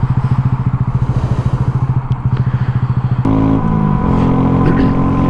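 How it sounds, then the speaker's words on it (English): A Honda Grom motorcycle, a small bike of about 7 or 8 horsepower, revs up close and loud, its engine pulsing in rapid throbs before shifting into a smooth, rising drone as it accelerates. "given it's a motorcycle, even though it's only like 7 or 8 horsepower, it accelerates fairly fast"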